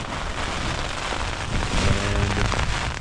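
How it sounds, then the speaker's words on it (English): Rain pattering steadily on a surface at a mountain camp near a lake during an evening thunderstorm, a dense, close hiss with scattered louder drops, unbroken for the whole few seconds. "It's thunderstorming now,"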